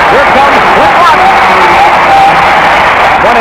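A basketball arena crowd at a Seattle SuperSonics game cheers and whoops loudly and continuously, a dense roar of voices with shouts rising above it throughout.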